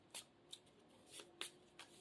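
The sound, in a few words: shuffling playing cards into the Marvel Champions encounter deck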